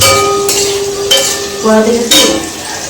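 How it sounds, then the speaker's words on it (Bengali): Capsicum frying in a pan for restaurant-style chilli chicken, a loud steady sizzle with a few sharp scraping strokes of a spatula stirring it. "আমাদের ক্যাপসিকাম কিন্তু ফ্রাই হয়ে গেছে সামান্য একটু বাকি রয়েছে"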